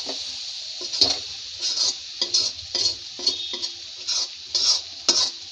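Chili powder being stirred into dry fish gravy as it fries in a pan: a run of repeated scraping stir strokes, close and fairly loud, over a steady low sizzle, with no talking.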